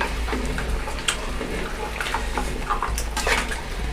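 Water pours into a cooking pot of tapioca in a steady, close splashing stream over a low background hum, with faint clinks of the pot.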